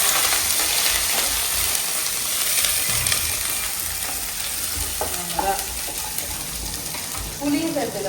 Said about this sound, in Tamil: காஞ்ச மிளகாய் லைட்டா வறுபட்ட உடனே இதுல இஞ்சியும் பூண்டும் சேர்த்துக்கலாம்.